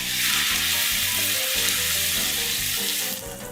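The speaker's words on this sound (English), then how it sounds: "go ahead and add your diced up tomato. And go ahead and stir this for 2 to 3 minutes" Diced tomato fries with browned garlic in a pan, a loud, steady hiss of sizzling over background music that fades near the end.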